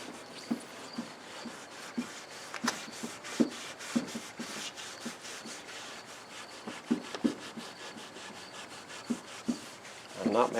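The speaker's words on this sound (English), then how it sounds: "I'm just letting the lacquer thinner do its job with the steel wool." Steel wool soaked in lacquer thinner and acetone scrubs old lacquer off the wooden cabinet of an RCA 87K radio, giving a steady close rubbing rasp with repeated short strokes throughout.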